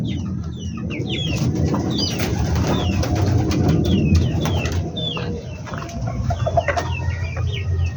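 Pet chickens cluck and call in quick, chirpy bursts throughout, close by and fairly loud, over a steady low background rumble, with pigeons kept nearby.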